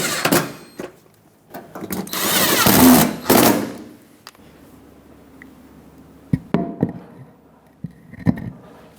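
A power tool drives 5.5mm screws along the front fender of a 2000-2005 Ford Excursion, a couple of seconds of loud, buzzing run followed by quieter clicks and handling noises.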